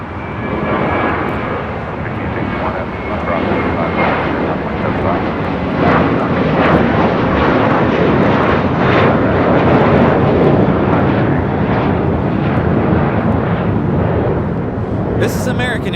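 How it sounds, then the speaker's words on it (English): An American Airlines Airbus A321 in a special livery climbs out from LAX with a loud, continuous jet-engine roar that swells slightly mid-way and holds steady, broadband and close, with no voices over it. "This is American Airlines Flight 990 taking off to Atlanta on an A321 in the stand-up to cancer livery"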